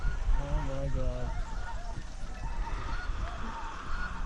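A large flock of blue geese honks overhead in flight, low over a hunting spread, with many overlapping calls that are loudest early on and then thin into a busy, windy outdoor wash.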